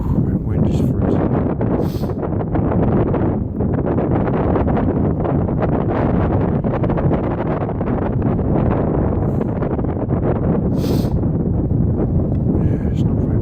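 Strong wind buffets the microphone outdoors on a cold day, a continuous loud rumbling roar with gusty rustling that barely lets up, and a voice speaks briefly beneath it.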